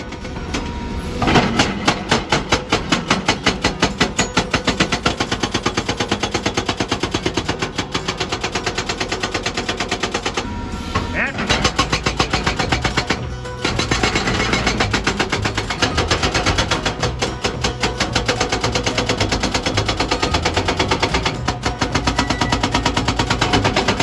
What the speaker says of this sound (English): the machine is capable of crushing tough rock blocks